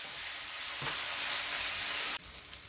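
Sweet pimentón de la Vera paprika from Cáceres is stirred fast in a hot pan for a creamy rice dish. It gives a steady, close, dense sizzle that drops away abruptly near the end.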